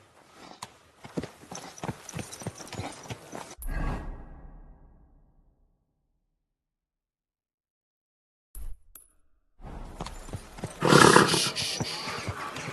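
Rhythmic hoof clip-clops from the video game Kingdom Come: Deliverance II, then a whoosh and silence, before galloping hooves resume with a loud burst near the end.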